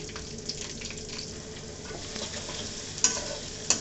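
Crushed garlic goes into hot oil with green chilies and onion for a thin gourd and fish curry, crackling in a steady, moderate sizzle with a couple of sharp clicks of stirring near the end.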